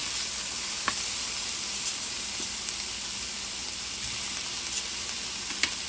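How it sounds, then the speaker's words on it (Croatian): Vegetables frying in a little oil in a pan that was just used to brown beef, a steady close sizzle and hiss with a few faint pops and stir clicks throughout. "I onda povrće prepržite."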